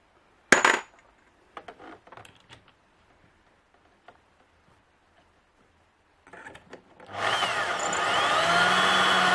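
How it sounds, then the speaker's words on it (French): Cartridge cases are handled with a few scattered clicks and taps before an electric drill spinning a LEE case-trimming tool starts up, running loud and steady at the end. "Décidément, ma perceuse, elle est vraiment pas progressive"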